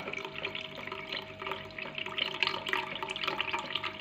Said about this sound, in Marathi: अशा पद्धतीने मी सगळं पाणी काढून घेणार आहे